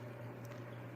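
Goldfish aquarium filters push a steady wash of flowing water, a constant low hum under a soft bubbling hiss, with no voices.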